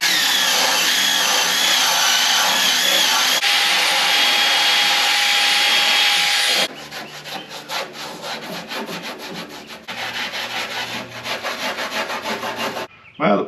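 A loud power tool grinds and rasps against a stripped-down scrapyard K5 Blazer front end steadily, then shifts to a rougher, pulsing scrubbing pattern before cutting off abruptly.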